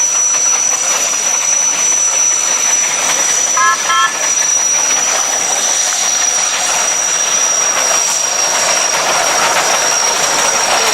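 Steam road locomotives and traction engines pushing a big load together, a steady loud hiss and rumble with a continuous high whine and a brief short toot partway through, no talk.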